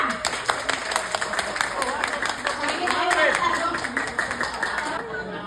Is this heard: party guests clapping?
yes